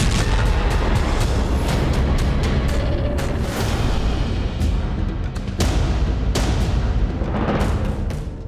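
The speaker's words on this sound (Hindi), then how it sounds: "गाजा पट्टी से रॉकेट उड़ रहे हैं और तभी एक मिस फायर रॉकेट से तेज धमाका गाजा" Loud, dense booming and crackling from rockets firing over the Gaza Strip, with one misfired rocket exploding, heard as repeated sharp blasts over a constant roaring rumble throughout.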